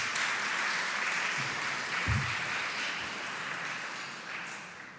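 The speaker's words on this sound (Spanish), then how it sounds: "un gran aplauso y os dejo con él" Audience applause at a tech talk, a steady wash of clapping from a crowd that slowly fades over a few seconds, fairly distant and soft, with a brief thump partway through.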